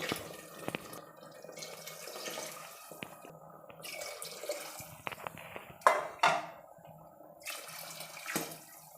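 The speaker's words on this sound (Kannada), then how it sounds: "ಈಗ ನೀರು ಸೇರಿಸ್ಕೊಳ್ತಾ ಇದ್ದೀನಿ ಈ ಗ್ಲಾಸಲ್ಲಿ ಎರಡು ಗ್ಲಾಸ್ ಅಕ್ಕಿ ನಾಲ್ಕು ಗ್ಲಾಸು ನೀರು" Water poured from a glass into washed rice in a pot for Kannada-style tomato bath, a few splashing pours and trickles with drips, close and moderately loud, without talk.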